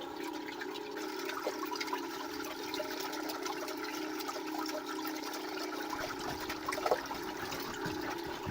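Steady running water echoing inside a cave in Negros Oriental, a continuous flowing wash with faint drips and trickles, no voices.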